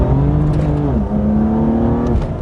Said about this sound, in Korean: 단지 배기음만 듣는 게 아니라 이 엔진의 사운드